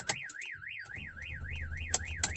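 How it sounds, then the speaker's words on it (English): A StarLine alarm on a Mercedes-Benz Vito van triggers as the engine cuts out, giving a steady warbling siren that sweeps up and down continuously, with a few sharp beeps over a low engine hum. "The alarm's triggering."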